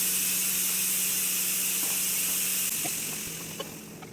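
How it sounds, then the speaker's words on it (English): A pressure cooker on the stove cooking ridge gourd dal with turmeric and chopped garlic lets out a steady, close hiss of escaping steam that holds for the whole stretch over a low background hum, easing slightly near the end. "Now cover the lid and pressure cook for about 5 to 6 minutes"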